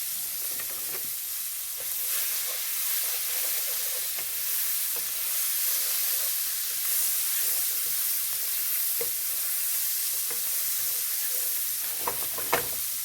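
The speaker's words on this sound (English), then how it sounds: "She's just going to saute those onions in the butter and the olive" Diced red onions sizzle in butter and olive oil in a skillet over a low flame, a steady bright hiss with occasional stirring clicks and a sharper tap near the end, no voices.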